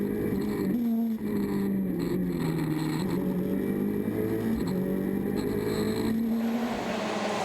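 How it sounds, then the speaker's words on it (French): A Ford Fiesta Super 2000 rally car drives a qualifying stage at the French rally final, its engine holding a loud, steady drone with slight pitch rises and falls throughout. "le héros local Ludovic Gherardi, au volant d'une Fiesta Super 2000."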